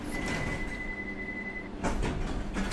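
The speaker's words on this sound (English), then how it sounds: "This train is ready to depart. Please stand clear of the doors." Train doors closing in the London Underground Simulator video game: a steady warning tone that stops, followed by a couple of sliding thuds as the doors shut, moderately quiet over a low hum.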